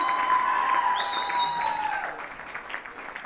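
An audience at a makeup product launch event applauds, a steady clapping texture that fades toward the end, with a few tonal electronic sounds layered over it.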